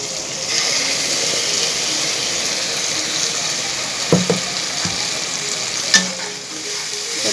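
Tomatoes fry with mustard seed, cumin, ginger, garlic, red chili and turmeric in a pan, a dense steady sizzle broken by a few sharp stirring scrapes and taps.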